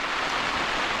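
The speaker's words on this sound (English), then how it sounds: "even though it is raining" Rain falling on a tent while wild camping on Dartmoor, a dense steady hiss of drops with no breaks, close and even throughout, no voices.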